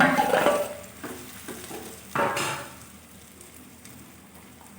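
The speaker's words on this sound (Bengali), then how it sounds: "মশলাটা ভালোই ভাজা হয়ে গেছে গন্ধ ছেড়ে দিয়েছে এবার দিয়ে দিলাম ম্যাশ করে রাখা আলু আর চিকেন" Mashed potato and chicken sizzle and crackle in fried spices in a hot pan, with two louder bursts of stirring and scraping, then a softer steady fry.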